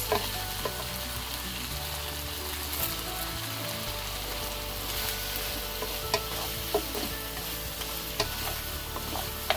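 A cashew fennel chicken fry with fried cashew nuts is stirred in a pan over medium heat, giving a steady close sizzle with soft scraping and clinks throughout.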